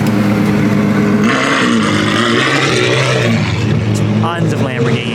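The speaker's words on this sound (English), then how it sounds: "we got the Supercar squad rolling in" Supercars roll into a crowded car meet at Daikoku on New Year 2023, their engines rumbling and revving nearby while someone talks over them.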